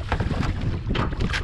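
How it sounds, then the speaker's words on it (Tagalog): Strong wind buffets a fishing boat at sea off Southern Leyte in rough, building waves, a steady broadband rush with gusty swells and splashing throughout, close and fairly loud, with no talking. "Dahil medyo lumakas yung hangin, saka lumaki yung alon."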